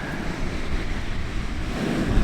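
Sea waves rolling in at St Leonard's on a churned-up coast, a steady broad wash of surf with wind buffeting the microphone, no voices.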